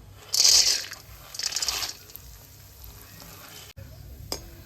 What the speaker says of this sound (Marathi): आता आपण काजू तळण्यासाठी तेल तुपामध्ये टाकू।